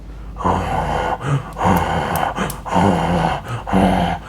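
A voice imitates a person snorting, with several rough, breathy nasal snorts repeated in an uneven rhythm, close and fairly loud.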